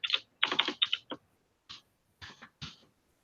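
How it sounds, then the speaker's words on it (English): Bursts of keystrokes on a computer keyboard, typed in several short quick clusters separated by brief pauses, close and clear with no talking. "So I can type hello world."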